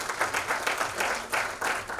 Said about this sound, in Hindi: जोरदार तालियों के साथ